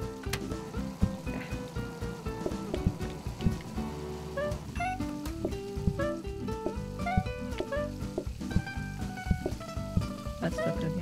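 Cartoonish food sizzling in the cooking game PlateUp, a soft crackle running throughout under busy game chimes and blips.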